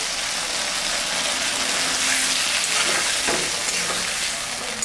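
Mustard and green chili paste sizzles in a pan with fried potato and cauliflower, a steady, loud, close hiss throughout with faint stirring scrapes and no talk.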